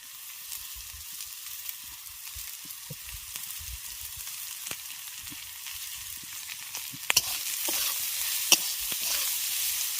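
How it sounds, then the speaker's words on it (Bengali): Boiled fenugreek leaves frying with potatoes crackle and sizzle throughout, with soft stirring scrapes and clinks over a steady hiss that grows a little louder toward the end, with no talking. "এবার মেথি পাতাটা দিয়ে খুব ভালো করে আলুর সঙ্গে ভেজে নেবো"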